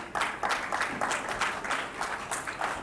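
An audience at a 5G launch event gives a round of applause, a moderately loud patter of many hands with slight pulses of emphasis that keeps going for a few seconds.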